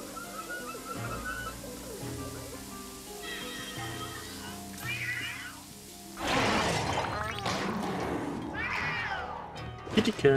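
A ghostly cat in the video game Luigi's Mansion 3 lets out a few meows and a harsh screeching caterwaul over game music, followed by a loud clattering crash.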